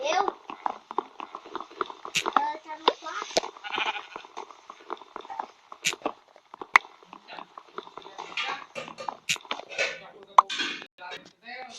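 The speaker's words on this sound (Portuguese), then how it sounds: "uma ovelha. Vem cá, ovelha." Sheep bleating in a video game, repeated short bleats mixed with clicks and game noises while a person talks.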